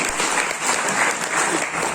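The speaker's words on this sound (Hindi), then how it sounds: "जोरदार तालियां।" Dense, loud applause from a large crowd, a continuous wash of clapping filling the whole clip.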